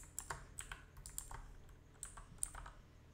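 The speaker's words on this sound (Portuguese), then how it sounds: "Digitei no console, dei o enter." Quick, light clicks of a computer keyboard typing into the RStudio console come in short irregular bursts, close and clear with no talking.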